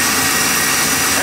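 A 1973 Impala's small block Chevy 406 V8 idles steadily with a broad, dense rumble and some high mechanical clatter, heard close and loud throughout the short stretch.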